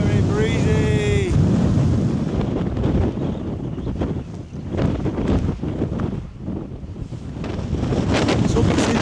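Strong wind buffets the microphone on the summit of Sheffield Pike in the Lake District, a loud, gusting roar that rises and falls throughout, with a brief tonal whine at the start and a voice talking faintly beneath it.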